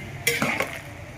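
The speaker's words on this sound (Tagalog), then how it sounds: "Nilalagay ko na din yung ating panghalo, yung ating sibuyas, bawang at saka luya, siling haba." Onion, garlic, ginger and long chili drop into a pot for pork sinigang, giving a few quick close clattering scrapes and a short sizzle, with no talking.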